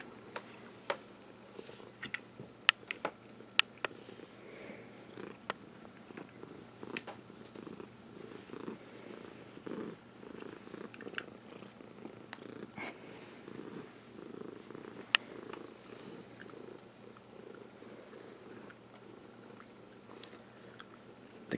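A house cat purrs softly and steadily nearby during a Back to the Future DeLorean model build, with small sharp ticks and clicks of parts and tools breaking in now and then.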